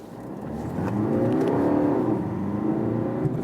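A BMW 118d F40 front-wheel-drive diesel hatchback in sport mode pulls away from a green traffic light, its engine note swelling into a steady, moderately loud drone heard from the cabin.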